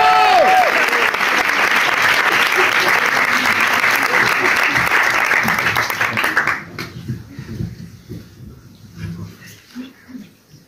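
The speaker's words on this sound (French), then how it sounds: "applaudissez pour vous" A live audience claps loudly and steadily for about six seconds before the applause stops sharply, leaving quiet room sounds and a few faint murmurs.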